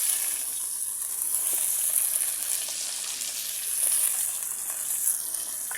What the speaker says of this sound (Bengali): ভালো করে ভেজে নিচ্ছি মাছগুলোকে